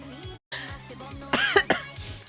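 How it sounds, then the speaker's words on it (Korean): A girl coughs in a few harsh, loud bursts close by, with a brief pause and a couple of sharper coughs near the end. "기침 오지게 나네."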